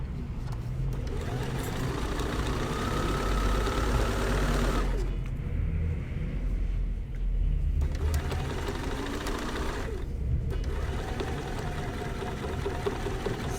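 A sewing machine back-stitches and sews pillowcase fabric with a loud, dense motor whir and rapid needle chatter, running in long continuous stretches broken by two brief pauses, close up with no talk.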